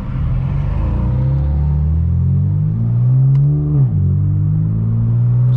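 A straight-piped BMW M4 F82 on the road, its loud exhaust droning steadily with a deep rumble, rising in pitch, then dipping briefly as it shifts before pulling again.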